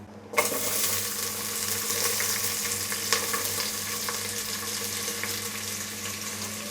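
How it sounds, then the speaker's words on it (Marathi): Onion drops into hot oil with whole spices in a pan and bursts into a loud, close, continuous sizzle that holds steady with a few faint stirring clicks and no speech. "मसाला परतून झाल्याच्या नंतर यामध्ये आपण कांदा घालूया."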